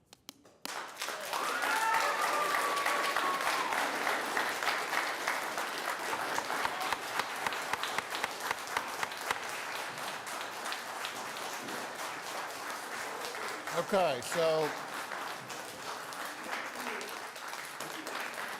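Sustained audience applause fills a city council chamber in Oklahoma City, a steady dense clatter of many hands, with someone briefly speaking near the end.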